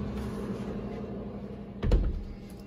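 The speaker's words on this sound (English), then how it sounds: "It completely shuts and latches." A hotel room sliding door slides shut and latches with a single firm thud and clack near the end, over a steady low room hum.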